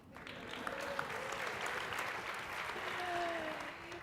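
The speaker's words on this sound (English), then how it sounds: "Can I just get a round of applause because I'm not using PowerPoint?" Audience applause fills a keynote hall at a speaking convention, a steady wash of clapping with faint voices and a brief vocal sound rising above it.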